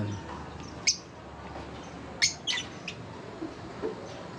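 Birds in an aviary give a few sparse, sharp chirps and tweets, scattered calls over quiet background hiss, some near and some softer.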